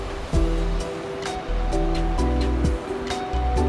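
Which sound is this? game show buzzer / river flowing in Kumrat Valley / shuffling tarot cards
river flowing in Kumrat Valley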